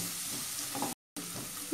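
Garlic, capsicum and spring onion stir-frying for a Szechuan chicken dish, a steady close sizzle with faint stirring scrapes, broken by a short gap of silence before the frying resumes.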